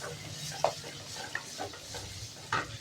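Ingredients for thuthuvalai thuvaiyal sauté in hot oil in a pan with a soft, low sizzle, while a spoon scrapes and clinks against the pan now and then.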